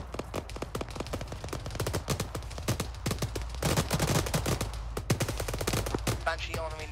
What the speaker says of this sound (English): It sounds like we're taking shots from behind, too.